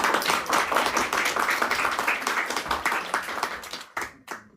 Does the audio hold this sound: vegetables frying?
no